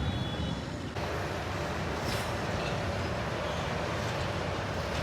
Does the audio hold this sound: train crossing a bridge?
yes